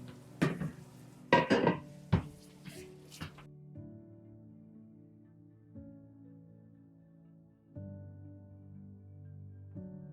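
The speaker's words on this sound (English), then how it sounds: "I'm going to chop up some cabbage first" A knife chops cabbage for meal prep on a board, a quick cluster of sharp, close cuts at the start, followed by a steady low tonal hum with no talking.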